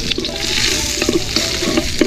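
Garlic, onion and ginger hit hot oil in a pan, giving a loud, close, hissing sizzle that stays steady for a moment, with a few small clinks.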